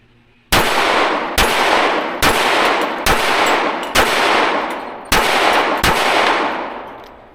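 Daniel Defense H9 pistol firing seven loud, sharp shots at a measured pace, each followed by a ringing clang of bullets striking steel plates, with no talking.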